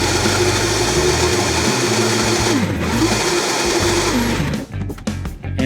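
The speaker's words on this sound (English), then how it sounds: "we're gonna use some Count Chocula cereal and put it in a blender" A blender whirs loudly and steadily as it mixes Count Chocula cereal with milk. The pitch shifts slightly as the contents churn, then the motor cuts out in stutters near the end.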